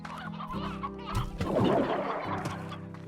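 Chickens clucking in the video game Slime Rancher, a busy cluster of repeated clucks and squawks swelling in the middle over steady game background sounds.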